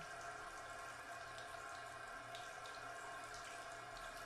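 Tap water running steadily over a Huawei Nova 3 smartphone's screen, back and ports during a water test, a constant close splashing hiss with no voices.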